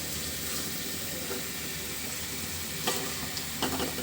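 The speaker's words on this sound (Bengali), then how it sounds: "তো এখন দিয়ে দিচ্ছি ধুয়ে রাখা এর ভিতরে মাছগুলো" Washed pabda fish go into a cooked tomato masala and sizzle in a steady, close frying hiss, with a few louder spits and crackles near the end and no talking.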